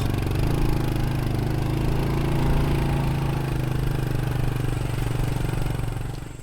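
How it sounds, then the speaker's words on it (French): A motorcycle engine runs steadily at close range on a narrow cement path along a forested ridge, its low, even idle rumble with light mechanical clatter continuing alone without pause. "on vient de garer la moto"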